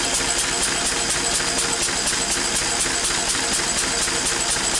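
A Lister D diesel engine runs hard on a dynamometer at a steady, fast rhythmic chug, loud and close, with a constant mechanical drone and no pauses.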